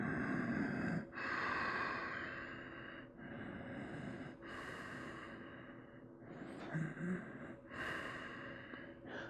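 Steady in-and-out breathing from a person holding the yoga Warrior 2 pose, close and fairly loud, with several audible inhale and exhale cycles and soft background noise between them.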